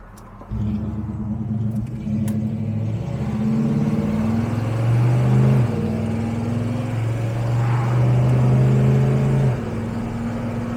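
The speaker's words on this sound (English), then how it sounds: "what it's like just driving the car" A 1971 Chevelle muscle car's deep, raw, rumbling engine drones steadily nearby, rising and falling as it revs and shifts while driving.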